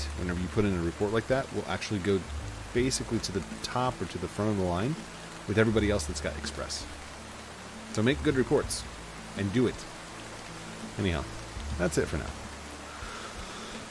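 Steady rain ambience from Roblox Lumber Tycoon 2 hisses continuously underneath someone talking throughout, a soft constant wash that never stops.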